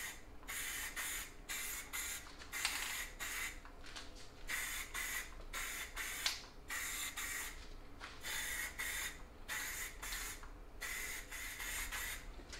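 An aerosol can of Hyperdip Brass Monkey paint sprays a wet coat in repeated hissing bursts of a second or two each, separated by brief pauses, close and steady throughout.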